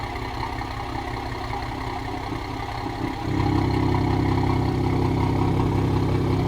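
Toyota Supra with an Ark Performance exhaust, valve closed, running steadily with a low drone that swells louder and fuller partway through and then holds, close and continuous, without talk.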